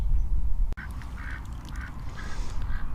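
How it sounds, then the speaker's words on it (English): Ducks on a pond quack in repeated short calls over a low rumbling background, with one sharp click early on. "the ducks did a big loop around behind me where I'm sitting at the moment"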